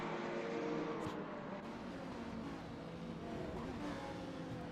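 A BMW and a Ferrari race around Watkins Glen in a racing video game, a faint, steady engine drone with a whirring mechanical tone that holds throughout.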